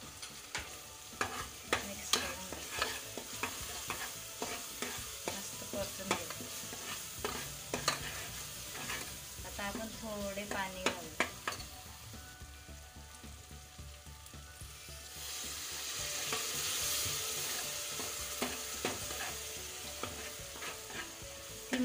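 Masala for chicken curry is sautéed in a pan, with busy clinking and scraping stirring strokes over a soft sizzle that later settles into a steadier, quieter hiss.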